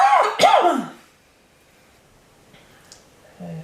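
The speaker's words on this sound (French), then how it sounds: "Ça arrive à tout le monde de tousser." A single short, rough cough up close, followed by near silence and a faint rustle.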